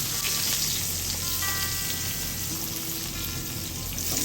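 Onions sauté with salt in a pan for a clam and bitter gourd dish, a dense, loud, unbroken sizzle that fills the whole moment close up, with no talking.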